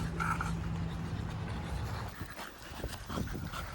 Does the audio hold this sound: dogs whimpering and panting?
yes